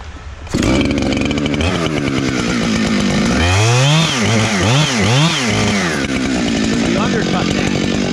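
Chainsaw cutting an undercut into a tree trunk during felling, engine roaring loud and close throughout with pitch rising and falling as the bar bites and revs sweep, voices faintly audible beneath.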